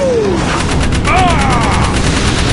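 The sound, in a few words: gunfire shooting eggs in the Jak 3 video game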